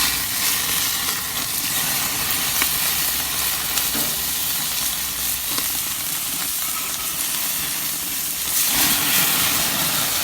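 Burgers sizzle on a grill in a home kitchen, a loud, dense, continuous hiss of frying fat that holds steady with a slight swell near the end, no voices over it.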